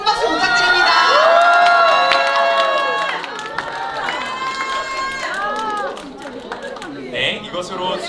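A crowd at an outdoor plaza rally bursts into loud cheering and shouting with scattered clapping, voices rising and overlapping close by before gradually settling.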